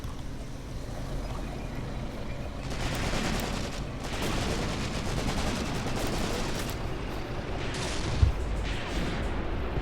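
Dense, continuous gunfire and rumbling explosions from a Graviteam Tactics: Mius Front battle, rattling bursts layered over a heavy low roar, with one sharper crack late.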